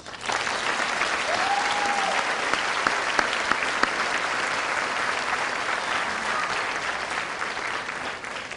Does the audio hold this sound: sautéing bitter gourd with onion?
no